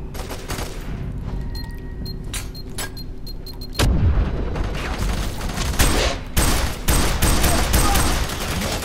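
Sustained gunfire from the shooter F.E.A.R. 3, with dense automatic bursts and heavy booming impacts that grow louder midway, continuous and close against a busy game soundscape.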